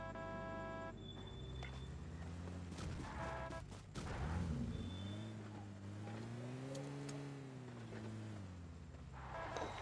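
A vehicle drives in the PUBG video game with a steady engine drone that swells and shifts pitch as it accelerates. Game effects play underneath at a constant loud level.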